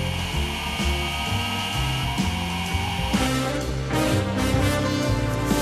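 A TIMEMORE Sculptor 064 electric coffee grinder with turbo burrs grinding coffee beans, a loud close motor whir with crunching grit that shifts and intensifies midway, no voices.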